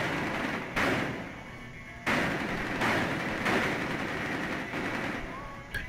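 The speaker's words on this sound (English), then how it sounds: "Suppressing fire." Suppressing gunfire rings out in a team deathmatch on the Yacht map in Rainbow Six Siege. Several loud, heavy bursts come roughly once a second, with a dull, continuous rumble between the shots.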